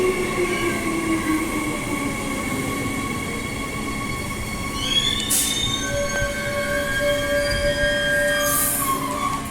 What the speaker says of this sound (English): here is the High Wycombe train